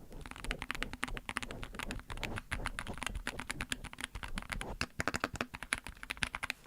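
Rapid, continuous typing on an $80 computer keyboard with no number pad, a dense clatter of close, crisp keystrokes with no talking.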